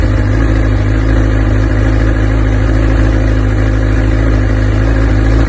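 A 2018 Honda 1000 RR motorcycle engine idles at just over 1,500 rpm, a steady, loud drone at a constant rumbling pitch, close by, without change for the whole stretch.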